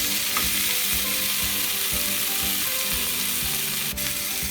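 Guajillo chile and vegetables dry-roasting in a hot pan with no oil over medium-high heat, a steady crackling sizzle with rhythmic scraping and clatter as they are stirred, close and continuous.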